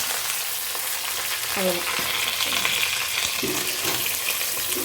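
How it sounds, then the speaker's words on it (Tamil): Dried red chillies, curry leaves and onion fry in hot oil for a radish sambar, giving a steady, dense sizzle with a few soft stirring knocks and scrapes over it. "வரமிளகாய் கருவேப்பிலை வெங்காயம்"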